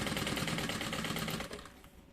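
Sewing machine stitching the lining of a trunk-style bag: a dense, rapid mechanical chatter running steadily, then easing off and stopping near the end.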